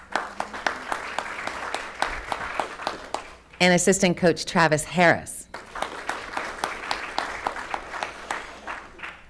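Audience applause at a school board meeting, steady clapping from a crowd through most of the stretch, broken by a brief announcement over a microphone in the middle before the clapping resumes.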